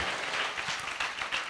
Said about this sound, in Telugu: చప్పట్లు కొట్టి మరోసారి దేవునికి స్తోత్రం చెల్లిదాం.